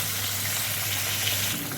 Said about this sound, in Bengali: মাছগুলো ভাজা হোক ততক্ষণে